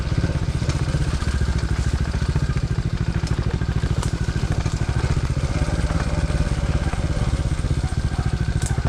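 A DB14 dirt bike engine labours while riding back up a hill, loud and close, with a steady rapid chugging pulse and rattling clatter throughout.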